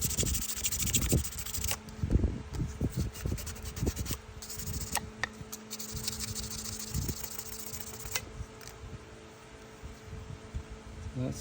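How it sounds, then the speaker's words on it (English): A 1977 Case XX Rail Splitter pocketknife blade is rubbed with 1200 grit sandpaper, giving steady, close scratchy strokes that continue without pause. "I'm gonna go ahead and hit it with this 1200 grit again real fast, just to take off any little burrs that might be on it"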